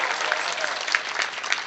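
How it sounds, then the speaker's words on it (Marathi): A kirtan crowd at a Ram temple gives steady, dense applause for the children's parents, many hands clapping evenly throughout. "आणि ह्यांच्यानंतर ह्यांच्या आई वडिलांसाठी टाळी वाजवा."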